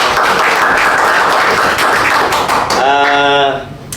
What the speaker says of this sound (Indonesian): Tepuk tangan dulu buat Pak.